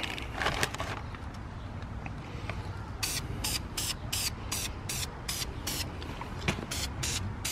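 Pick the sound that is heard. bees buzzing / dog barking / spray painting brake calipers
spray painting brake calipers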